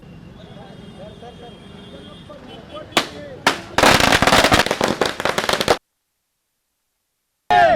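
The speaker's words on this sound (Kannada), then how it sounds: "ಮಹಾನಗರ ಪಾಲಿಕೆ ಮುಂದೆ ಕಾಂಗ್ರೆಸ್ ಕಾರ್ಯಕರ್ತರು ಪಟಾಕಿ ಸಿಡಿಸಿ ಸಂಭ್ರಮಿಸಿದ್ದರು" Firecrackers set off by Congress party workers celebrating outside the Gulbarga city corporation office: a couple of sharp bangs followed by a rapid, loud crackling string of bursts that ends abruptly.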